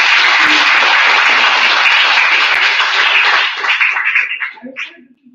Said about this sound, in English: Please give a round of applause to each other